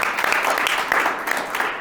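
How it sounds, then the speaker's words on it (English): A loud, dense burst of audience applause fills a Business Brew networking event, many hands clapping together with small surges for under two seconds. "A round of applause for everyone."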